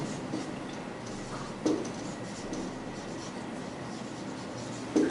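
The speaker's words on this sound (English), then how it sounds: "I'll write here" Chalk or marker writing on a board during an English grammar lesson: faint, steady scratchy strokes with a few sharper taps, close by and with no talk over them.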